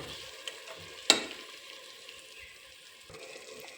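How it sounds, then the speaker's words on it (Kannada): Ground spice paste for fenugreek (menthya) pulao roasting in a pan, a soft steady sizzle with faint stirring scrapes and one sharper clink near the start, fairly quiet and without talk. "ಈಗ ಇದು ಹಸಿ ಸ್ಮೆಲ್ ಹೋಗೋವರೆಗೂ ಸ್ವಲ್ಪ ಹುರ್ಕೊತೀನಿ"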